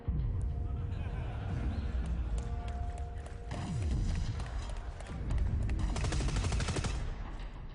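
Heavy Minmatar machine gun fire in the sci-fi shooter Dust 514, rapid loud bursts rattling over engine rumble and explosions, with a voice talking over the gameplay.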